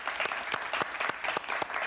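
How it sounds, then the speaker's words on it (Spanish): An audience applauds a guest historian at an evening talk show, a short burst of brisk, uneven clapping from a modest crowd, fairly close. "Un aplauso para él, por favor"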